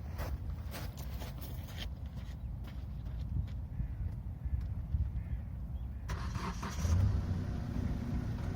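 A Kia Ceed Estate's engine runs at idle, a steady low rumble that continues unchanged for several seconds, with faint clicks and a brief shift in the background noise near the end.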